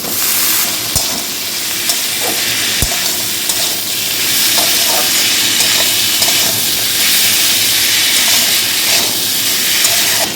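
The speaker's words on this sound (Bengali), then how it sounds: "মশলার সাথে খুব ভালোভাবে কষিয়ে নেব।" Potato pieces cook with salt and spices in a pan, giving a loud, steady close hiss of frying with occasional scrapes and knocks as they are stirred, no voices.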